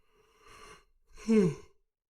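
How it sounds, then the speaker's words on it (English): One person gives a single audible yawn: a soft breathy intake, then a louder drawn-out voiced exhale that fades out. "Pardon my yawn."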